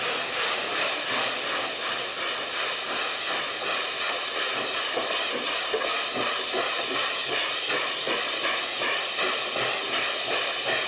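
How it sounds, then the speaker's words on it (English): Continuous loud, rhythmic chuffing of steam locomotive exhaust with a rushing hiss, dense and unbroken throughout, on the plains of Inner Mongolia, China. "entertained by some energetic steam chanting while we waited to catch train 43"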